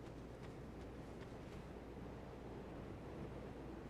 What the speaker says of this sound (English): Just stare out at the ocean waves